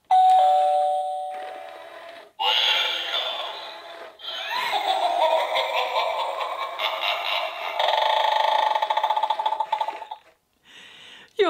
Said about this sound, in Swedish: tack vare den här ringklockan